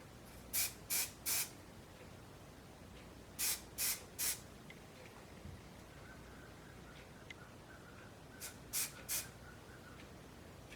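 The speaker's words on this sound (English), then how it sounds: "it's absolutely essential that you get a spray glue that has an adjustable spray" Adjustable spray glue hisses onto a wheelchair seat back cushion in three groups of three short, sharp bursts, each burst crisp and close, with quiet pauses between the groups.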